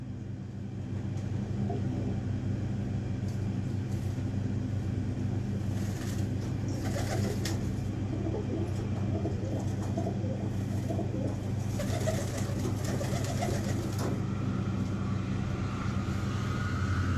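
Pigeons, including a Teddy hen bred over several generations, coo softly and repeatedly near the listener over a steady low hum, with a faint aircraft-like drone passing in the background.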